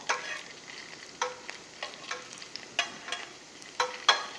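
Korean potsticker dumplings sizzle in a pan over a very low flame, a steady soft crackle broken by a dozen or so sharper pops and spatters spread irregularly throughout.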